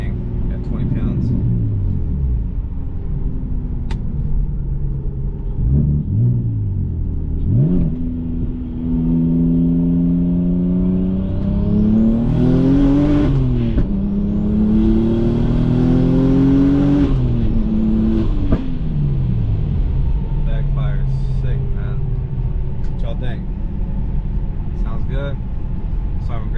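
A BMW 135i with a single-turbo engine at 20 psi of boost revs and pulls hard through gears, with a loud, rising engine drone and shifts, close up inside the car.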